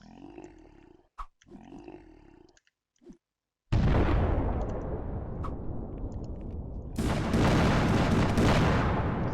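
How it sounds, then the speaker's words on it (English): Bombs exploding in a metroidvania video game, heard as a sudden loud blast that rolls into sustained roaring rumble and then swells louder, after quieter game sounds. "So the bombs themselves, they just did a small amount of damage."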